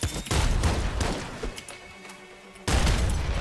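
Heavy grenade launcher blasts in the video game Nuclear Throne, a dense barrage of loud booming explosions that fills most of the clip, dips briefly, then returns at full force.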